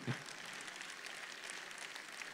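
Audience applause at a Nuit des Sportifs awards evening in Digne, a steady wash of distant clapping from a hall crowd, fairly faint and even throughout.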